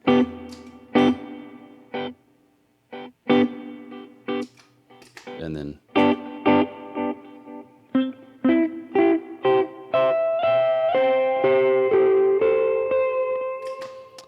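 Guitar through a Roland 501 Chorus Echo effect, with plucked notes and chords ringing out, warbling and echoing, that build into a denser sustained swell near the end; someone says a couple of words.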